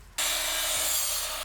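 Saw cutting through wood for a folding sawhorse circle pattern, a loud steady rasping stroke running continuously for over a second before stopping.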